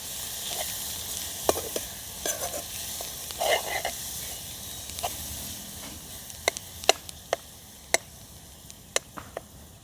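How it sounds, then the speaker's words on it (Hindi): Spices being stirred into garlicky fenugreek greens (methi bhaji) with turmeric, salt and red chili in a pan: a steady sizzle under repeated scraping strokes and sharp spoon taps against the pan, close and clear, no talking. "मसालो सारी रीते आपणे मिक्स करी दईए"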